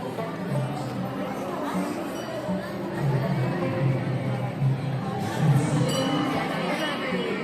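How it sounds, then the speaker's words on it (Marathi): Dense crowd murmur and chatter inside the ISKCON temple, a continuous babble of many voices with occasional clinks, steady at moderate loudness. "गर्दी बघू शकता खूप गर्दी आहे गर्दी बघू शकता"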